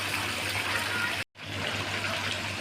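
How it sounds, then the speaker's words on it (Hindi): Water poured into masala frying in a pan for chicken and potato curry, heard as a steady, loud hissing gush that breaks off briefly midway and then continues, with no talking. "बस थोड़ा सा हम इसको और भूनकर पानी शामिल कर देंगे।"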